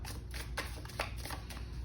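Everyday Witch tarot deck being shuffled by hand, a few soft papery riffles of cards repeating at a steady pace, close and quiet with no talking.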